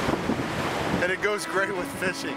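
Surf draining back over small rocks on a Peruvian beach, a steady rushing wash with wind buffeting the microphone, continuing under a nearby voice talking.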